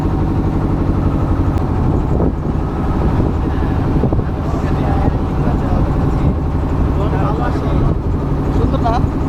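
A motor boat on the Jamuna River passing beneath a bridge, its engine a steady close droning rumble with some wind buffeting throughout.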